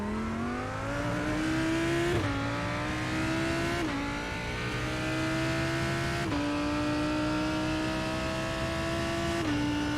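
A GT3 race car in the iRacing simulator at Circuit Gilles Villeneuve, Montreal, roars through rising gears. The engine note climbs steadily and drops sharply at each upshift, loud and continuous with no talk over it.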